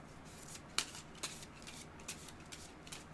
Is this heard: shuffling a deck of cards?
yes